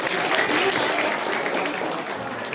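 Audience at a Balinese-language month event in a village hall gives a steady round of applause for a third-place winner, dense clapping holding evenly for a couple of seconds with faint voices mixed in.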